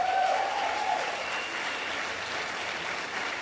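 A church congregation applauds, a steady, fairly loud wash of many hands clapping together that continues without pause and fills the room.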